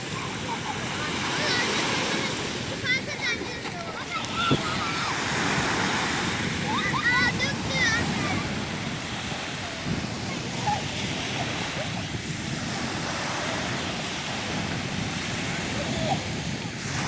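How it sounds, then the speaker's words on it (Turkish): Ocean waves washing onto the beach at Side near Antalya at sunset, a steady loud roar of surf with rolling swells, close by, with some wind rumble and faint voices in the background. "biraz sessiz kalmayı tercih ediyorum ki sizler dalga sesini duyabilirsiniz diye."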